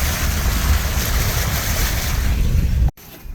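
Vehicle splashing through a shallow creek crossing on a hilly track near Greenlee, Missouri, with a loud, steady rush of churning water and low rumble that cuts off abruptly near the end.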